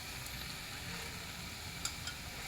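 Chopped tomatoes sizzle in a pan with ginger garlic paste for butter chicken, a steady close hiss of frying with a couple of soft stirring clicks.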